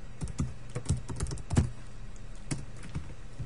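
Fingers tap on a computer keyboard in quick, irregular bursts of soft clicks, fairly quiet and close, with no talking.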